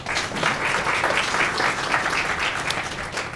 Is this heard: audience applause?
yes